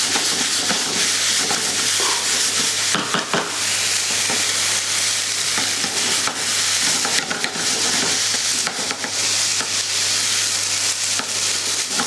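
Rice grains fry in a pan for a pea and Parmesan risotto, giving a steady, loud sizzle with irregular crackles and stirring scrapes throughout, with no talking.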